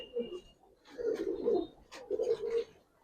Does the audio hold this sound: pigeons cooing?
yes